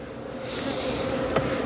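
Honey bees drone around an opened horizontal hive in a steady, close, continuous hum, with one brief sharper buzz as a bee passes near.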